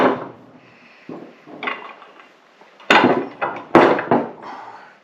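Metal pieces of a Pony 50 pipe clamp fixture are shifted across a workbench, giving a few scattered knocks and clunks with sharper impacts near the end.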